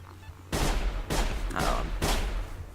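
Shotgun blasts from hostile hunters in the video game Sir, You Are Being Hunted: four loud, booming shots spaced about half a second apart, each with a heavy low thump and a lingering tail.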